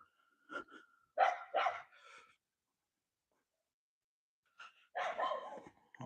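A dog indoors barks close by in short bursts, a quick cluster of barks followed by a quiet pause and then another burst.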